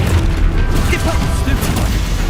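A booming Expulso spell blast in the wizarding game Hogwarts Legacy, a loud rumbling detonation buried in dense, continuous combat noise.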